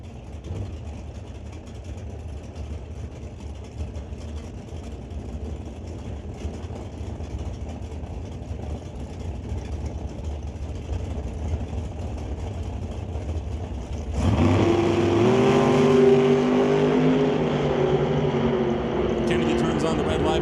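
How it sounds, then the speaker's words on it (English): Two big-block Chevy drag cars, a 2004 Grand Am and a 1968 Camaro with 648 and 632 cubic inch engines, idle at Mission Raceway Park, then launch at about 14 seconds into a loud, rising engine roar. Spoken commentary runs over the engines. "2004 Grand Am going up against the Busted Knuckle Services Limited 1968 Camaro. 2 big block Chevys on either side of the tree."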